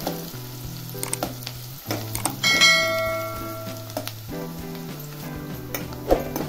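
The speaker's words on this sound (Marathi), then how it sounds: "त्यामध्ये आता मी कांदा टाकणार आहे।" Chopped onion hits hot oil already crackling with mustard seeds and cumin, giving a loud close sizzle that swells and then settles into steady frying, with occasional clinks of a pan.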